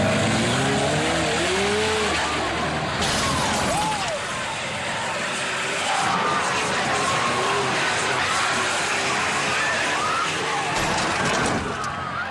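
A truck engine strains up a steep 80-degree incline at a daredevil event, its revving rising and falling under a loud, constant wash of crowd cheering and shouting.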